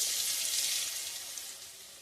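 Potatoes frying in oil as salt is added, a steady bright sizzle that holds evenly and close, fading slightly toward the end with no voices.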